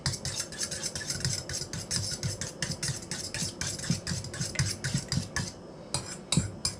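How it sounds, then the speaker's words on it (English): A fork whisks eggs briskly in a bowl, making a rapid, regular run of light clinks and scrapes that is close and moderately quiet, ending in a few separate taps. "break the yolks up some, and we're just going to give it"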